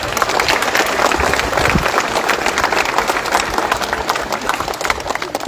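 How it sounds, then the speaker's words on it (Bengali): An audience at a school gathering applauds loudly for a student's exam rank, with dense, sustained clapping from a crowd filling the space. "তাই একটা জোরে করতালি হয়ে যায়"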